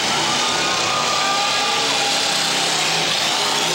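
Loud, steady engine roar of a Suburban in a demolition derby heat, a continuous high-revving drone that stays dense and unbroken throughout, close and dominant.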